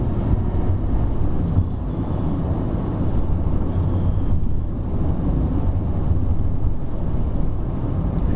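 A 2020 Perodua Bezza left in D rolls over road humps, producing a continuous, fairly loud in-cabin rumble of engine and road noise that holds steady throughout.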